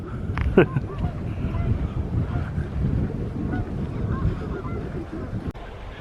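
A single goose honk rings out near the start at a beach, then gusty wind and a low rumble carry on with no further clear calls.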